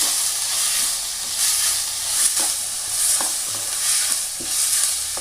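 Tomatoes and onions sauté in a pan for a gravy, with a continuous bright sizzle and hiss close by, swelling briefly as the pieces are stirred at a regular, unhurried pace.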